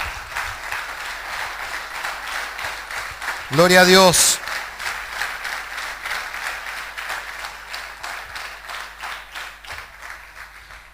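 A church congregation applauding, steady dense clapping throughout with a preacher's voice briefly calling out over it.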